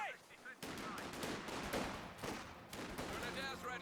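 Gunfire in the World War II strategy game Company of Heroes 2: rapid bursts of rifle and machine-gun shots crackling in quick succession after a brief quieter opening.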